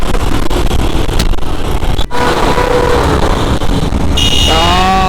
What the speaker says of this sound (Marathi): आता इथे बॉटल नेक आहे समोर म्हणून थोडं ट्रॅफिक लागतंच आपल्याला